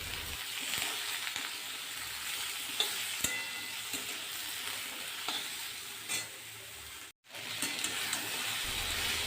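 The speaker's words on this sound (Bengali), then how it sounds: "নেড়ে চেড়ে সবাইকার সঙ্গে ভেজে নেওয়া হচ্ছে।" Eggplant pieces stirred and fried in a kadai, a steady close sizzle with scraping stirs throughout, briefly cutting out near the end before resuming.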